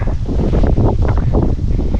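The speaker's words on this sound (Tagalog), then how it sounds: "Hala, grabe ang hangin." Strong, gusty summer wind in Finland roars and buffets the microphone continuously, a loud rumbling rush with no voices.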